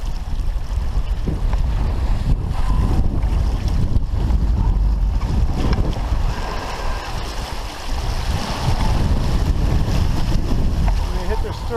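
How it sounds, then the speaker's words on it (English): Small boat out on Lake Huron in rough water with waves of three to five feet, wind roaring steadily across the microphone while water churns and slaps around the hull, loud and continuous throughout. "See with the waves, which are 3 to 5 now for sure."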